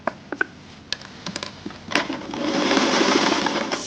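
A sewing machine stitches a fabric strap, starting with a few short taps and clicks before settling into a steady, close, continuous whirring run of stitching.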